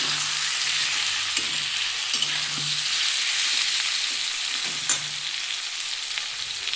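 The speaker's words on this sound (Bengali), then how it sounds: "রসুনের পেস্ট আমি একটু ভালো করে নাড়িয়ে দিচ্ছি" Garlic and ginger paste stirred and fried in a pan while cooking a prawn, cauliflower and potato curry, a steady soft sizzle with periodic scraping strokes of a spoon, close and alone.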